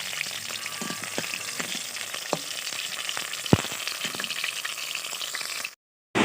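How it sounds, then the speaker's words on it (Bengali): Chicken puli fries in hot oil in a wok, giving a steady, dense sizzle with scattered pops and crackles and one sharper knock, before it cuts off abruptly near the end. "সবগুলোই তো এখন লাল করে ভেজে নেব একটু"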